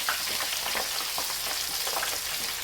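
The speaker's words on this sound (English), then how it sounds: "Go ahead and give them a quick fry. With the onion rings," Pre-cooked onion rings frying on a Blade GSX griddle, a dense, continuous hiss of sizzling fat at steady loudness, close by with no speech.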